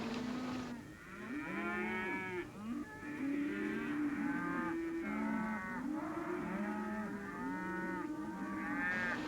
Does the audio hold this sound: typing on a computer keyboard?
no